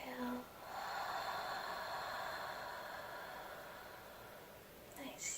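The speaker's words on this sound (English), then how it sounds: "Exhale." A long, breathy exhale during a mindfulness breathing exercise, a soft steady rush of air lasting several seconds, close and alone, bracketed by faint brief sounds at the start and end.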